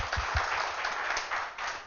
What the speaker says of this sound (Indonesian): Kita beri tepuk tangan yang meriah buat Tuhan kita